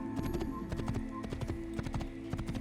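Horse hooves clip-clop steadily in Assassin's Creed, a quick regular trotting rhythm that stays close and even throughout, with faint background game ambience.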